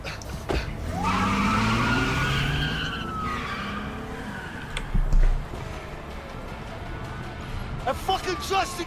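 A car skidding away in the video game A Way Out, a rising tire squeal and engine roar that fades into the distance, with a thump midway and raised voices over it.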